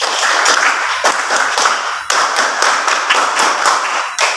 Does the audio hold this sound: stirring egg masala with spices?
no